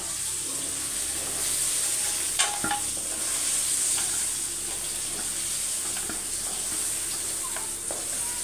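Pointed gourd (potol) frying in a pan and being stirred, a steady close sizzle with scraping strokes of the spoon against the pan throughout, with no talk over it.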